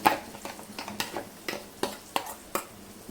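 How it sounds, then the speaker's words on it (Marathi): A spoon stirs onion-coconut paste sautéing in oil in a pan, tapping and scraping in a steady rhythm of roughly two strokes per second over a faint, soft sizzle. "मिक्स करायचे आणि याला तेल सुटेपर्यंत आपण छान परतून घ्यायचं आहे"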